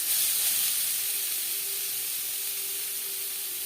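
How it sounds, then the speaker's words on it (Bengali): A spoonful of ghee heating in a wok for carrot halwa gives off a steady, even hiss, quiet and continuous, with no voices. "কড়াইতে দিয়ে দিয়েছি 1 চামচ ঘি।"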